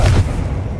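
A heavy booming blast from the Confringo spell, a single low thud that decays quickly into a rumble.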